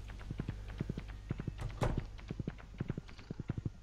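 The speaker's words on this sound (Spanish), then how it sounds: "Salta, pega un bote, eres un caballo. Galopa libre." Horse hooves clip-clop at a fast, steady gallop in Stardew Valley, a crisp run of rhythmic hoofbeats with a brief thud partway through.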